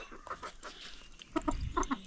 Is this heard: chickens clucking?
yes